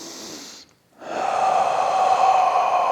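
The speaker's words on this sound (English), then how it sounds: "So full belly breathing." Deep full belly breathing: a long audible exhale, a brief pause, then a strong, steady, breathy inhale drawn in close to the mic.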